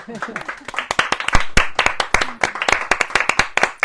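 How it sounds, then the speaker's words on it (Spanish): A modest audience claps at a book presentation for a novel, with close, distinct individual handclaps forming an uneven, moderately loud patter while voices murmur underneath. "Un aplauso"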